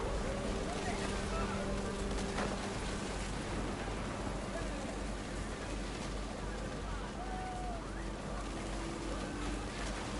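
Steady heavy rain pouring down in a storm in the game What Remains of Edith Finch, a dense constant hiss throughout, with a voice narrating over it.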